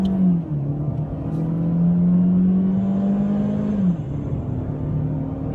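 A 2014 Chevy Sonic LT with about 50,000 rental miles and traction control off revs hard, its raspy engine note climbing steadily and holding high before dropping back near the end, up close with no talking.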